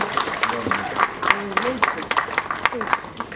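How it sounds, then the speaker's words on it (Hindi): Scattered clapping from an audience at a felicitation event, irregular individual claps running beneath a speaking voice throughout. "प्लीज जोरदार तालियां हो जाए ऐसे व्यक्तित्व के लिए"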